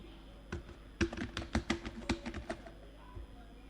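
Typing a Bengali name into an online birth registration application form on a computer keyboard: a quick close burst of about a dozen light key clicks, fairly quiet, then a pause.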